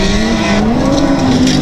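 Rear-wheel-drive dirt rod race car at Stansted Raceway, its engine note loud and close, with a steady pitch that rises slightly as it charges past, tire noise mixed in, no talk.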